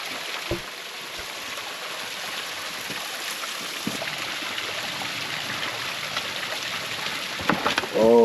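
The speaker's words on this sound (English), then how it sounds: "when you find a mossy waterfall like this" A mossy waterfall pours in a hidden canyon near Ojai, a constant broadband rush of falling water heard up close and loud, with a few brief knocks and splashes near the end.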